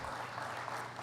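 Brief, faint applause from a church congregation during a sermon, a soft, even patter of many hands with no distinct individual claps.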